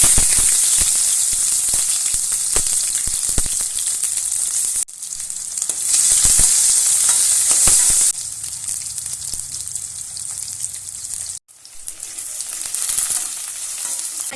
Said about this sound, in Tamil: கட் பண்ணி வச்சிருங்க வெங்காயம், பூண்டு, அப்புறம் கருவேப்பிலை இது எல்லாத்தையும் எடுத்து ஆட் பண்ணிக்கோங்க.